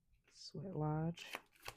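Tarot cards are shuffled by hand in a few brief, crisp riffling bursts, soft and close, after a short voiced sound.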